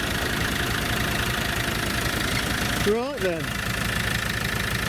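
A Fiat-built engine in an Iveco Daily fridge van idling steadily after its first start in ten months, an even, close mechanical chug throughout, with a brief spoken remark partway through.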